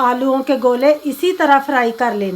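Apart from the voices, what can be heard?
No distinct noise like a dog, phone or traffic.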